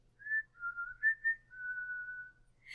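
A person whistles a short, wandering melody of clear, sustained tones, close and quiet against a silent background, imitating a road sweeper's cheerful tune.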